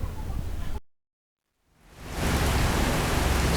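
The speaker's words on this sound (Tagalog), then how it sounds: "ngayon lang dumalaw ang ulan, no?" Rain falling during hot weather, heard as a steady hiss of broadband noise that cuts to near silence for about a second, then swells back at a loud, even level.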